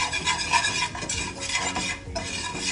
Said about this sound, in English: I'm gonna end up whisking that up.